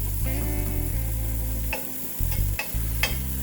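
Broccoli florets fry in butter in a pan, a steady loud sizzle broken by several sharp scrapes and clacks as they are stirred, with no voices.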